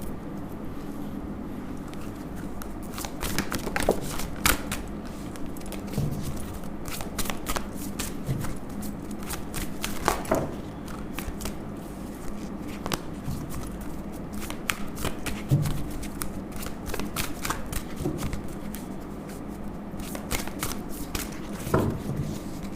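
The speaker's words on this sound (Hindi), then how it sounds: "ये मैंने शफल कर दिया है।" Tarot cards are shuffled by hand up close in repeated riffling bursts, each a crisp flurry of card flicks, over a soft steady background rumble.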